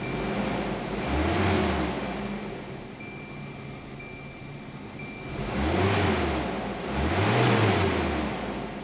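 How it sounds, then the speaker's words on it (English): A Volvo 740 engine runs with a loud clutch fan, its whooshing roar swelling up three times in slow surges over a steady mechanical whir, close and without talk. "That clutch fan's loud."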